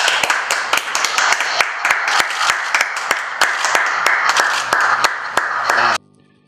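A small group claps for civil servants at a Turkish public event, producing sharp, distinct individual hand claps in a fairly even rhythm, loud and close, with some voices mixed in before the applause stops abruptly.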